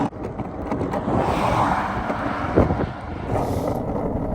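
Steady wind rushing over the microphone of a skater heading into a headwind on a cross-country road trip, a loud continuous roar with gusty swells and a brief thump partway through, no talking.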